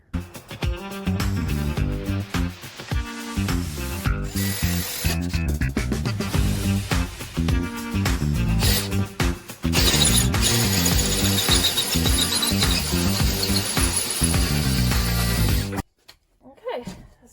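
A power drill bores into cement sheeting during a bathroom renovation, a loud, sustained grinding whine with shifting pitch and brief pauses, running steadily for about sixteen seconds before stopping abruptly.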